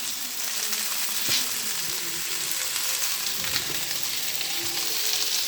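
Pork chop and vegetables simmer in a pan, giving a steady, even sizzle with a few faint clicks and no voices.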